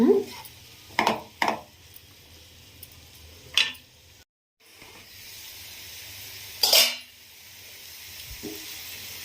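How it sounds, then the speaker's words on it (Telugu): Ivy gourd (dondakaya) frying in oil for a curry, a low steady sizzle under occasional sharp clinks and scrapes of a utensil against the pan, with a brief dropout midway. "దొండకాయ అనేది మంచిగా ఫ్రై అవుతుంది కదా"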